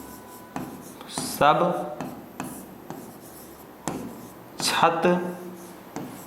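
Chalk or marker scratching across a classroom board in short strokes during a Hindi grammar lesson, heard under a teacher's steady speech.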